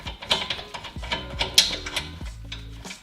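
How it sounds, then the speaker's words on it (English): A ratchet turns out the caliper bracket bolts on a Honda Accord, giving a close run of sharp metallic clicks and ticks with uneven spacing and a few louder clacks, no talk. "now all we're gonna do is take the two bolts out for the caliper bracket"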